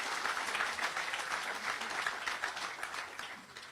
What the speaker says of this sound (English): I think they deserve a round of applause for the work they have done.